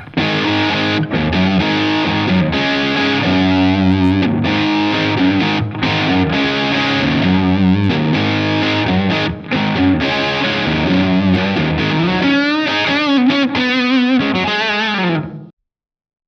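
Crunchy, distorted electric guitar riffing through a BIAS amp model with a classic rock tone, loud sustained chords and choppy rhythmic strums that stop abruptly at the end.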